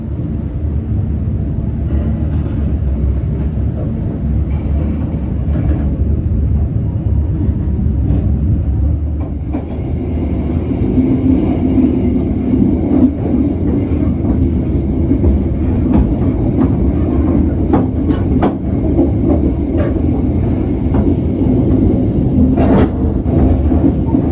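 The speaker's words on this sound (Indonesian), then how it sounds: "kereta api Joglo Semarkerto diberangkatkan kembali dari stasiun Gundih ya." KA Joglosemar passenger train running on rails between Gundih and Telawa stations, a steady loud rumble of wheels and carriage throughout with occasional sharp clicks from the track, heard from the vestibule with no voices.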